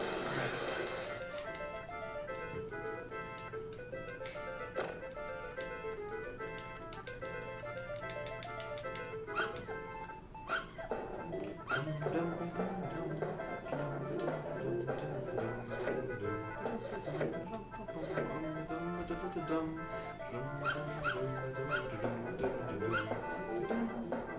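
Puppies in the Earthworm Jim 2 video game bark, yip and whimper repeatedly over steady game music and sound effects, with people talking quietly over it now and then.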